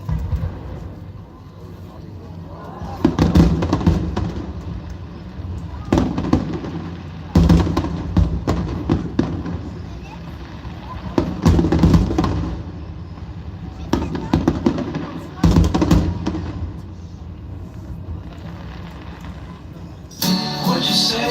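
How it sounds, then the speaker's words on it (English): Recorded fireworks burst in repeated clusters of crackling pops and booms at roughly regular intervals, medium-distant and fairly loud, used as the opening of an album track, with a brief tonal sound entering at the very end. "I think I'm gonna start it with these fireworks."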